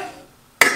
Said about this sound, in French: je mets le couvercle